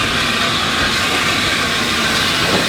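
Hunslet Austerity 0-6-0 saddle tank steam locomotives of the J94 type running at a steam gala, heard as a loud, steady rumble with broad hiss and faint rhythmic rail clatter throughout, no voices.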